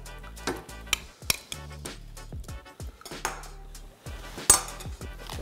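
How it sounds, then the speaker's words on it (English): Cottage cheese being spooned into a banana smoothie mixture produces a run of close, bright clinks and knocks of a spoon against the container, irregular and fairly loud, with no talking. "we're gonna add about 6 ounces of cottage cheese"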